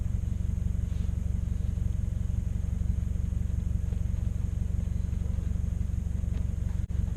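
A Scion FR-S sports car accelerates from 0 to 60 mph, heard as a steady, loud low engine drone from inside the cabin that holds constant throughout with a brief dip near the end.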